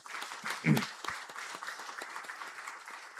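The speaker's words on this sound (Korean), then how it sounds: "우리 박수로 환영하시도록 하겠습니다" A congregation claps to welcome a visiting family, parents with two young children, during a Sunday church service; steady, moderately loud applause from a crowd fills the room, swelling briefly early on and then continuing evenly.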